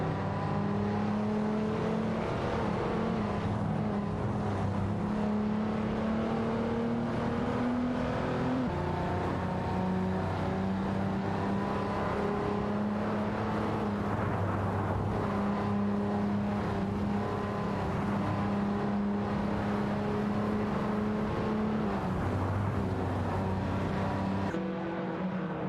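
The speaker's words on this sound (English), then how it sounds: "Racing car dashing away." Racing cars speed around a racetrack with continuous layered engine drones rising and falling in pitch as they rev and shift, loud and steady throughout with no talk.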